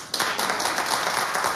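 Studio audience on a daytime talk show bursts into sustained, dense clapping, loud and steady throughout with no talk over it.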